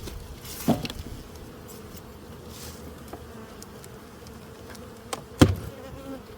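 Honeybees buzz steadily around the entrances of spring hives, a soft continuous drone close by, with a couple of sharp knocks breaking through.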